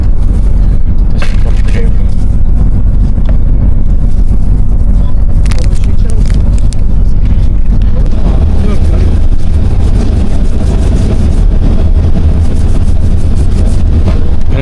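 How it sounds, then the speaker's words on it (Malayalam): A bus drives along with a constant loud, low rumble and wind buffeting close to the microphone, while people talk intermittently over the engine noise. "നമ്മുടെ ബസ് യാത്ര ആരംഭിച്ചിട്ടുണ്ട്"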